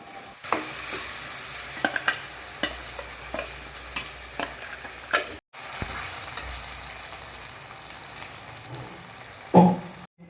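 Ground masala paste sizzles and fries in a pan for a village-style country chicken curry (naatu kozhi kolambu), with steady close frying hiss and repeated scraping stirs, one brief pause, and no talking.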